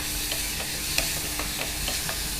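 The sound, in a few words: chopped onion frying in a pan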